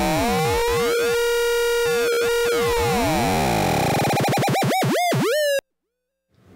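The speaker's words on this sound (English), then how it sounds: "you don't get into the interesting distorted sounds like this" A Dewanatron Novitiate low frequency oscillator pushed up into the audio range, giving loud, harsh, distorted electronic tones with a steady drone, rapid sweeping sidebands and wobbling pitch, ending in a few slow swoops before stopping abruptly.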